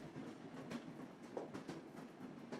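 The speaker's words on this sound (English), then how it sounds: "The train slowed as it began its journey across the structure." Train on the West Highland Line slowly crossing a structure, a faint, steady rumble with soft rhythmic wheel clicks, no voices.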